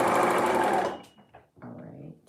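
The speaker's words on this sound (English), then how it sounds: "So I'm basically serging all the way around, just attaching the sleeve to the armhole." A serger stitching a sleeve onto a garment armhole, a loud rapid mechanical whir for about a second that stops abruptly, followed by quieter short bursts and handling noises at close range.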